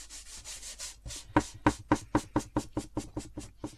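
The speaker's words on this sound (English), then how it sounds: "you just want to start pushing that paint actually into the wood grain" A brush works paint into the wood grain of a Christmas Eve box with a run of about fifteen short, even, close rubbing strokes that grow louder partway through.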